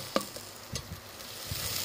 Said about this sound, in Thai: ก่อนอื่นเรามาผัดพริกแกงค่ะกับหัวกะทิก่อนเลยนะคะ